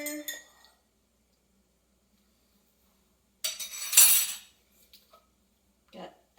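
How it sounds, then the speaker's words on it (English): A spoon clinks briefly against a cup while stirring milk into roasted dandelion root tea, a short cluster of light metallic taps after an opening bit of sound, then a few softer knocks, alone and close. "Give it a little stir."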